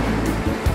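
An ocean wave in a cartoon: a brief, loud rush of surf and water with low churning rumble, heard alone without voices.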